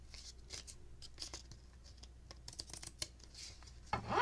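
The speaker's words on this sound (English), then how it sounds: "Let's go ahead and trim the sides." Scissors trimming the edges of a paper card, a few quiet snips and rustling cuts at close range, ending in a louder scrape, with no speech.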